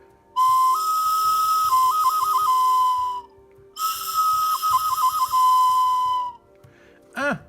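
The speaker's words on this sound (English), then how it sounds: "since this is kind of more of a bird call whistle than it is a musical whistle in a sense" A bird-call whistle made of ceramic fired clay for a sacred fan handle gives two long shrill blasts with warbling trills, each a few seconds long, then a short rising chirp, close and loud.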